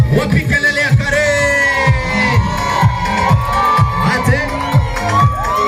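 A crowd cheers, shouts and whoops for Karey at a grand wedding-style entrance, the noisy voices sustained throughout over a steady rhythmic beat and sung tones.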